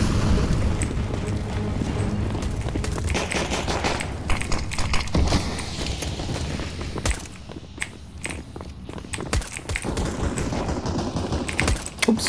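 Rapid gunfire bursts in Counter-Strike: Global Offensive, dense clattering volleys with sharp individual shots and short pauses, mixed with keyboard and mouse clicks, no talking.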